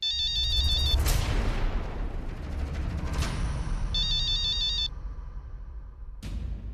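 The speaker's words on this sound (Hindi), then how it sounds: "अरे वो देखना किसका फोन है।" A phone ringtone chimes in two bursts over a loud, steady rumbling background, with sharp thumps between them.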